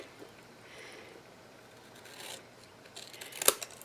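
Scissors angle-cut adhesive strip pieces while a caddy is being made, with one crisp, close snip near the end after faint handling rustles.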